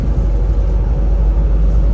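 Toyota Land Cruiser LC300 accelerating on a ring road, a steady loud low engine and road rumble filling the cabin without pause, no talk over it.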